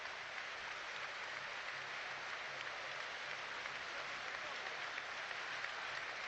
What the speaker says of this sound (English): Applause, I'm assuming, for Matty Cusack, but no, it's for another.